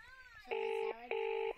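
Two short, steady electronic telephone keypad tones sound in quick succession while dialing a doctor's office, clear and close with faint background hiss.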